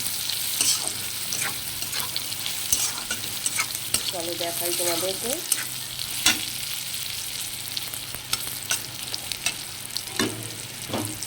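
Food fries in a pan in a home kitchen, a continuous crackling sizzle with scraping stirs and a few sharp knocks, while a person speaks briefly partway through.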